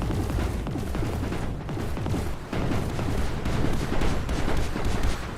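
Fuse turrets in the factory tower-defense game Mindustry blast away in a dense, continuous barrage of rapid heavy cracks and booms, loud and unbroken across the whole stretch.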